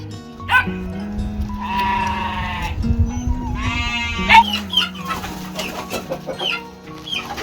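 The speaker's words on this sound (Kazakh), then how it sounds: "Бәрі маңырап тұр" Several sheep bleat in a farm pen, overlapping long wavering calls up close, with chickens clucking and a dog barking faintly amid the barnyard clatter.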